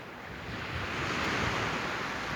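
Ocean surf washing steadily over the whole stretch, a broad continuous roar of moving water with some wind noise, fairly loud and without speech.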